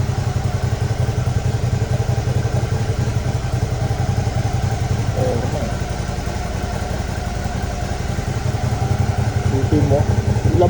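A Suzuki V-Strom DL 650 motorcycle engine warms up after sitting unused for months, a steady close idle with a fast even pulse and light mechanical clatter throughout.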